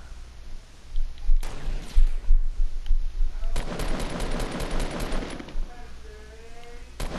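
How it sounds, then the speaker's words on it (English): Rapid gunfire erupts in an online shooter video game, with bursts of automatic fire and sharp shots that crackle in dense volleys, loud and close over steady game background noise. "There's people shooting at me."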